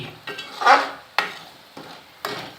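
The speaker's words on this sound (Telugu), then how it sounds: "కారం ఇలా వేసుకొని అలా కలుపుకోవాలి" Chili powder being stirred into a fish curry with a utensil: a few distinct close scraping strokes against the pot, separated by brief pauses, with no talk.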